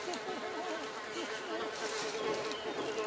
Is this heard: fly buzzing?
yes